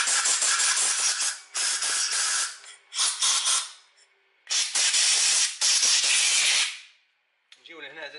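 Compressed air blasts into a car carburetor during cleaning and adjustment, several loud, close hissing bursts of a second or more separated by short pauses, followed by a brief quieter sound at the end.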